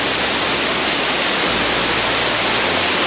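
Waterfall in the Lambasingi and Araku hills during the monsoon, a loud, close, unbroken rush of falling water filling the whole clip with no voices.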